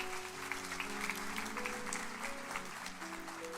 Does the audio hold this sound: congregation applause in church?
yes